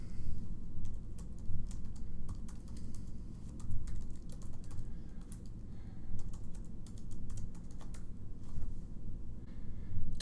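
Someone types a username and password on a computer keyboard, a quick run of light key clicks in uneven bursts, close and fairly quiet, with no speech.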